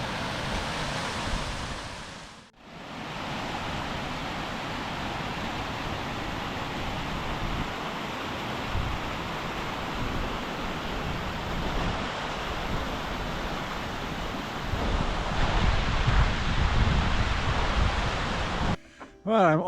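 Rushing water pouring over a small waterfall on a river in the Mallerstang dales, a loud steady broadband roar that holds nearly unbroken for twenty seconds, swelling slightly near the end, with wind buffeting the microphone.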